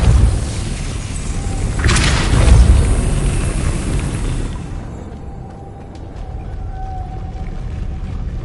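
Depulso spell cast in the video game Hogwarts Legacy gives a loud booming whoosh that swells and fades over a couple of seconds, over a dense rumbling ambient background followed by a quieter hum.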